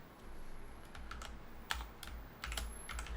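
Quiet, close clicking of keys on a computer keyboard, a short run of irregular taps typing a word on a Windows 11 PC.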